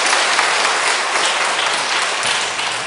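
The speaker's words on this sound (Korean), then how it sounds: "우리 여러분들이 좀 힘찬 박수로 우리 격려해 주시면 고맙겠습니다" A church congregation gives vigorous applause during a Sunday worship service to encourage a choir member, loud and sustained, steady thick clapping throughout.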